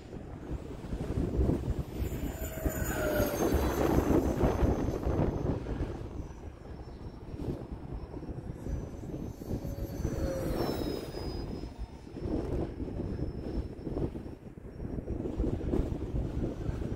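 An E-flite A-10 Thunderbolt II RC jet with twin 64mm electric ducted fans flies after taking off from grass, a faint whine rising and falling as it passes, mixed with gusty wind rumble on the microphone.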